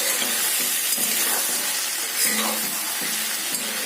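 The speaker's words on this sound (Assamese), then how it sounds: "মাংসখিনি আকৌ এবাৰ লৰাই দিছোঁ।" Chicken meat stirred in a hot pan over low heat: steady hissing sizzle broken by repeated scraping and clattering strokes of a utensil, no talk.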